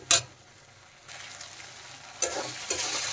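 Spices with chilli powder sauté in hot oil with a steady close sizzle, broken by a few louder bursts as the spatula stirs and turns the mix; no voices.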